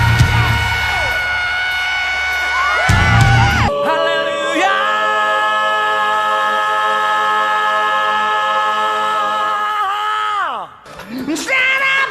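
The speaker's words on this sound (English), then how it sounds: "he just lets out a badass rock scream" A rock singer character in the movie Rock Star lets out a long, sustained, loud rock scream into a microphone, held for several seconds over concert noise before breaking off.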